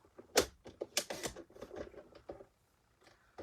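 White card stock is cut down to size for a handmade card, making a quick series of crisp, close snipping and scraping sounds for about two seconds before going quiet.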